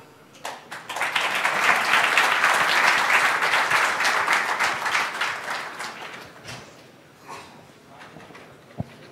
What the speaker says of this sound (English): Clap for yourself, because without you,